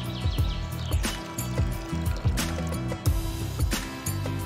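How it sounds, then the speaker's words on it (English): Baking soda solution mixed in water glugs and trickles as it is poured into a spray bottle for a homemade garden insecticide, close-up liquid splashing and dripping with a rhythmic gurgle under soft background music. "Mix and pour into a spray bottle."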